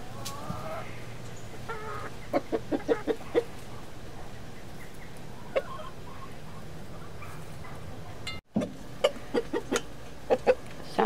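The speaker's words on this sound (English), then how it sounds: "Sounds of a happy rooster." Chickens cluck in short bursts of rhythmic calls, a rooster among them, fairly close with quiet pauses between the clucking.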